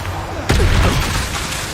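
A Bombarda blasting spell explosion in Hogwarts Legacy: a sudden loud booming blast with a rumbling tail, mixed with game chatter and voices.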